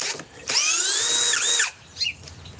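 A power drill spinning in reverse: a loud, steady whine lasting about a second, with a slight dip in pitch partway through, then releasing, followed by a brief faint chirp.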